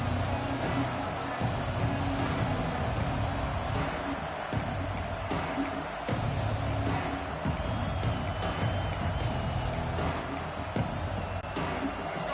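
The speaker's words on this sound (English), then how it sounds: "Listen to the crowd energy here in the early going." Dense, continuous roar of a large stadium crowd at a college football rivalry game, a steady wash of cheering and noise with faint clapping, heard from within the stands.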